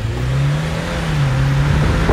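A Jeep Wrangler 4xe in hybrid mode pulls away hard from a power-braked launch, its engine drone loud, steady and close throughout with no talk over it.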